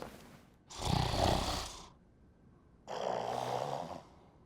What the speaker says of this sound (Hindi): ये तो खर्राटे लेने लगी